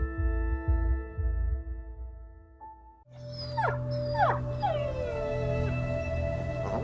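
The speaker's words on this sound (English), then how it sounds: "My dog." A dog lets out a series of rising, whining howls and yips over a low, steady background hum.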